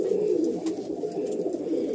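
Pigeons coo steadily and close by inside a pigeon loft at Barasat, a continuous low, throaty murmur of several birds overlapping throughout with no talk.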